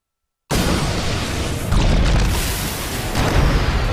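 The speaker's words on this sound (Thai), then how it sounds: "เดินไปเหยียบระเบิดครับเมื่อกี้" A land mine detonates in Dota 2: a sudden loud, broadband boom that bursts in after a moment of silence and rumbles on, swelling again partway through.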